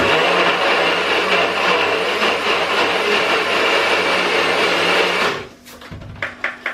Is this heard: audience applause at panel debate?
no